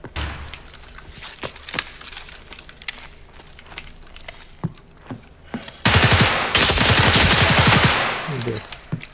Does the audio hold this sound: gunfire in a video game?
yes